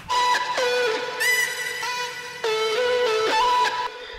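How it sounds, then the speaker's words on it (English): Pitched vocal chops in a melodic bass drop jump up and down in short, bright syllabic stabs, some sustained with reverb tails, loud and clean with no talking. "So it sounds like this, the second half of the vocal chops."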